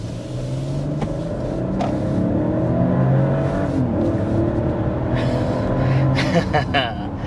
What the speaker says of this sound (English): And there's 60. Smooth acceleration.